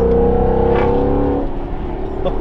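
A 2015 Mustang GT fitted with a Corsa Xtreme cat-back exhaust on a stock tune rumbles loudly and close, with a deep, steady engine tone that eases off partway through.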